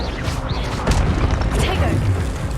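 A fire spell is cast in the Hogwarts Legacy video game, producing a loud, dense burst of crackling, whooshing flame and impact noise that lasts the whole stretch, with several sharp hits layered over game sounds.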